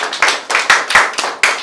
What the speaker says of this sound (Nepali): कृपया ताली निरन्तर रूपमा ताली बजाइदिनु होला